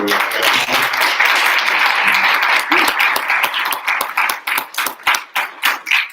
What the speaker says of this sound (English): If you give a round of applause for